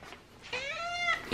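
A cat gives one rising, drawn-out meow close by, clear and fairly loud, with a short quiet breath or rustle just before and a brief sound at the end.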